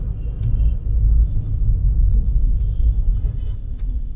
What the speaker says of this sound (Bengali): আমার গাড়ির কেবিন নয়েজ অনেক বেশি, এটা আপনারা জানেন, গাড়িটা অনেক পুরানো, ইঞ্জিনটা অনেক বেশি হয়ে গেছে